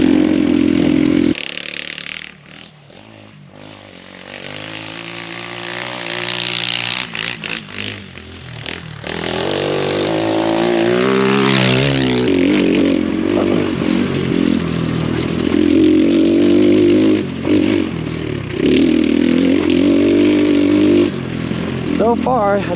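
An X Pro Storm 150 DLX ultra-light dual sport dirt bike revs and rides along a trail, its engine note rising and falling steadily and loud close by, with scraping and clatter over rough ground.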